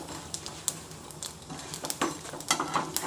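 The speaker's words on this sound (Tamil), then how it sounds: "கடலைப்பருப்பும் நிலக்கடலைப்பருப்பும் கொஞ்சம் வதங்கட்டும்" Chana dal and peanuts sautéing in a pan, soft sizzling with scattered stirring taps and scrapes of a utensil, close and fairly quiet, no talking.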